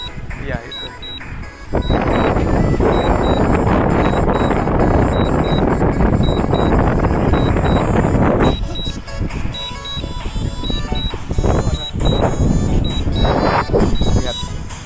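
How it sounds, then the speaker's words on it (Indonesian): Strong storm wind buffets a harbour in heavy rain, roaring loudly and continuously across the whole stretch with gusting surges, while a steady electronic beep pulses in the background and people talk beneath it. "Angin kencang."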